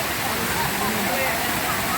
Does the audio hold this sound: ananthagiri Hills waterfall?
yes